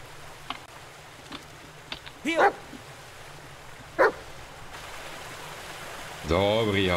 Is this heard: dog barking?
yes